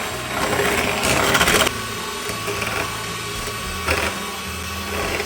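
A hand mixer beats butter, cream cheese, whipping cream and condensed milk into a cheesecake cream, its motor whirring steadily with a brief louder surge near the start, with no talking.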